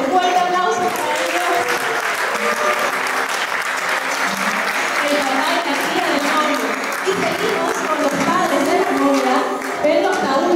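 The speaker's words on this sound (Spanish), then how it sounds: "nos acompañan con un fuerte aplauso para ellos." Strong, sustained applause from a wedding reception crowd greeting couples as they enter, a dense steady clapping wash that fills the whole stretch without a break.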